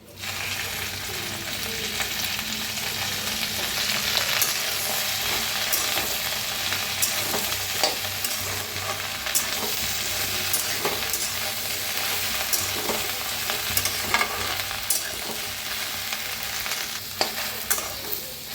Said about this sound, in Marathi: तर आता थोडंसं तेल वतून भाजूया भेंडी।